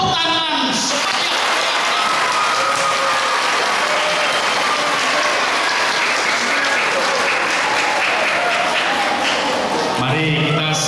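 A congregation applauds at a Chinese New Year mass in a parish church in Pemalang, the dense clapping filling the room almost continuously for about ten seconds before a voice resumes speaking at the end.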